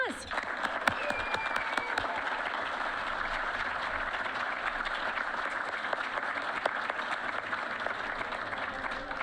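Steady applause from a crowd welcoming a guest speaker, the assistant head coach and wide receiver coach for the University of Nebraska, lasting the whole stretch at an even level with a few sharper claps standing out.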